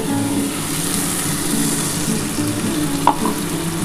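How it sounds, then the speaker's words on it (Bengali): Spice masala fries in a pan for a chana dal made with jackfruit, giving a loud, close, continuous sizzle with one sharp clink near the end and no speech. "একটু ভালো করে কষিয়ে নিই মশলাটা দিয়ে"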